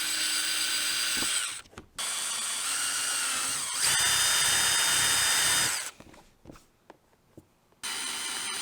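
A handheld power drill bores holes into a plastic body kit panel on a Yamaha YXZ 1000R side-by-side, several loud whining bursts separated by short pauses and handling noises.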